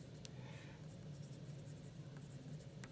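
Pen or pencil scratching on paper while notes are written in a classroom, soft continuous scribbling strokes, close and faint, with no talking.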